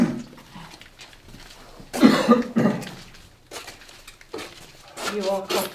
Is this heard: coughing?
yes